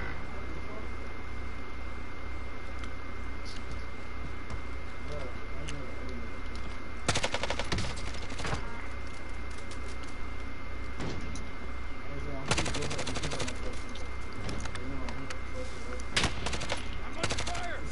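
Bursts of automatic gunfire in a duos video game shootout, dense rattling volleys around two points in the middle over a steady game background, with voices talking throughout.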